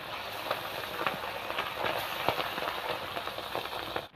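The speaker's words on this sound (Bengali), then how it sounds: "আমি একইভাবে ভেজে নিচ্ছি।" Pabda fish sizzling as they fry in hot oil, a continuous dense crackle with scattered sharper pops, close and steady throughout.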